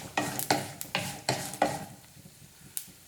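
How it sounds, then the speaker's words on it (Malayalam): Black sesame seeds crackle as they roast in a pan on low flame, sharp sizzling bursts repeating every half second before thinning to a quieter patter, close and alone. "എള്ള് എന്താ പറയുക, ചെറുതായിട്ടൊന്ന് പൊട്ടി വരും."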